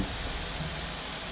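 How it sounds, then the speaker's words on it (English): Onion bhajis fry in hot oil with a dense, even hiss and crackle, faint and continuous throughout without any talking. "we're only frying these for a good couple of minutes"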